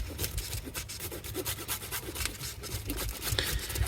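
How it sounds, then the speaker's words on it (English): A hand grater rasps a chunk of Parmesan close to the rind in quick, rhythmic back-and-forth scraping strokes, quiet and close, with no voice. "it always gets harder to grate when you're next to the rind"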